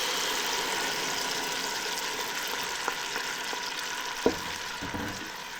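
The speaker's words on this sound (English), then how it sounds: "we allow this to fry for about 3 minutes" Blended tomato and tomato paste for jollof rice fry in a pan with a steady, even sizzle, broken by a few faint scrapes of stirring.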